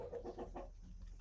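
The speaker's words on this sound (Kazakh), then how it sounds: "Мынау кешегі алып келген тауықтар." Newly arrived hens in a farm coop give a quick series of soft, close clucks, about four short pulses followed by a faint squawk at the end, quiet and with no talk.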